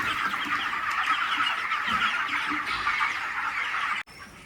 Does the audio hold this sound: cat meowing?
no